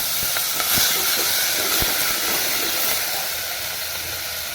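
Soaked rice is tipped into hot ghee for jeera rice and sets off a loud, steady, broad hiss like rushing steam that holds almost unchanged throughout, close up, with faint clicks underneath and no speech.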